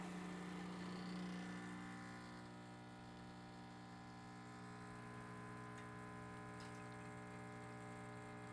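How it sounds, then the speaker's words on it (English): Quick Mill Pippa espresso machine pump humming steadily while extracting coffee, a low continuous buzz with faint trickling, quiet and close with no talk. "So I'll put my portafilter in, and extract my coffee."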